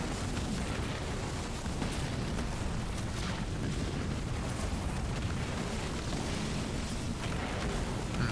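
Mines detonating against Wraith hover tanks in the Halo Wars 2 strategy game, heard as a dense, continuous roar of overlapping explosions and rumbling blasts that stays loud and unbroken throughout.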